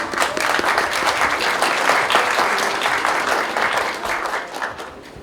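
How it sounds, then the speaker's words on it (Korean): Sustained applause from a ceremony audience at a startup venture camp, dense steady clapping throughout that tapers slightly at the end. "여러분 큰 박수 보내주시죠"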